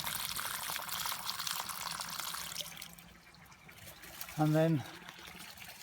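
Water from a pond filter trickles and flows back into a garden pond, a soft continuous wash heard under a voice, with a brief louder burst of sound near the end.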